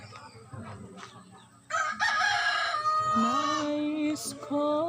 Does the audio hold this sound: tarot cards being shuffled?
no